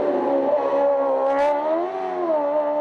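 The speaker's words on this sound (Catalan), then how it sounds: "Al volant d'un Speedcar GT1000" A Speedcar GT1000 race car climbs a hill in a steady, high-pitched engine whine that dips and rises slightly, heard at a distance with no talk.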